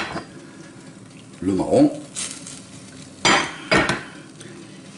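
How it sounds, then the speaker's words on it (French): White wine poured around a pan of chicken to deglaze it, giving a brief sizzle and hiss amid clanks of a pan and utensil, with someone speaking briefly in French over the kitchen sounds. "je vais aller faire mon vin blanc sur tout le tour pour décoller un peu"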